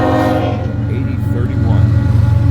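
A passing freight manifest train in Fremont, Nebraska gives a loud, steady low rumble that runs through the whole moment, with a horn-like tonal band on top and someone talking over it.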